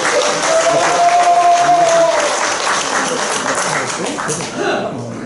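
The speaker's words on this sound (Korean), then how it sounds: "한번 박수 한번 크게 쳐주세요" Applause fills a church's Wednesday worship service, a dense, steady wash of many hands clapping at full strength for about five seconds, with a few voices murmuring underneath before it thins toward the end.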